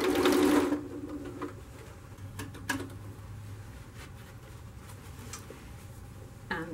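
A sewing machine stitching fabric for a director's chair seat at a stitch length of about 3.0 to 3.5: a loud, fast burst of stitching at the start, then quieter ticking and a low hum, with no talk.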